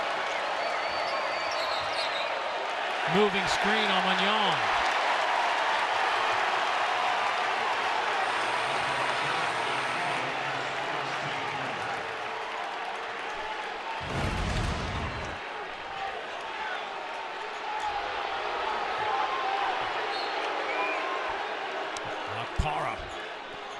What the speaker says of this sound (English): here comes this crowd that has been really quiet today